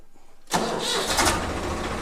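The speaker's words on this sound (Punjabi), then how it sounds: "ਆਪਾਂ ਸਟਾਰਟ ਕਰਾ ਕੇ ਦੇਖਦੇ ਆ" A Swaraj tractor engine cranks and fires after half a second of quiet, catching at once into a loud, rough running clatter close by.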